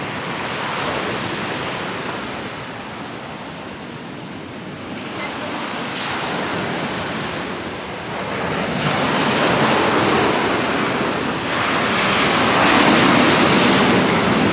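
Heavy ocean surf breaking on a beach at Amed, Bali, a continuous roar of waves that swells louder toward the end, with wind buffeting the microphone.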